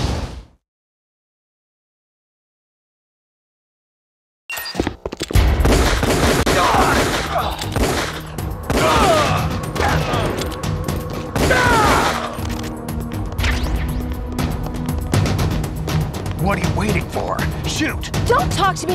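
After a short burst and several seconds of silence, sustained gunfire erupts in Metal Gear Solid: The Twin Snakes, with rapid automatic shots, crashes and mechanical clatter continuing loud and close to the end, with voices over it.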